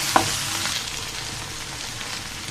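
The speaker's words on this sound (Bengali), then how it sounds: "আমি ঢাকনা ছাড়া ভেন্ডি ভাজি" Okra and potato fry in an uncovered pan with a steady, dense sizzle that holds close and even throughout, broken only by a small clink near the start.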